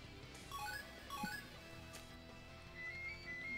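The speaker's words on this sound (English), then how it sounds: "And my phone is ringing." A mobile phone rings faintly in the background, a short series of rising electronic tone blips repeating in a melodic pattern under a low steady hum.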